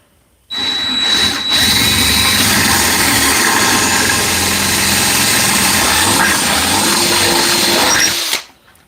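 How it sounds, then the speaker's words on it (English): A power drill with a 5/16 bit bores out a hole for a T-bolt in a miter saw T-track. It starts abruptly and runs loud and steady for about eight seconds, then stops. "I'm going to drill this out with a 5/16 drill bit"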